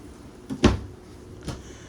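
A storage drawer beneath a stovetop in a travel trailer slides open and shuts, two soft thuds about a second apart.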